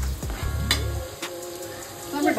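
Zunka mixture of gram flour with salt and chopped coriander being sautéed and stirred in a pan, a steady sizzle with scraping strokes of the spoon near the start.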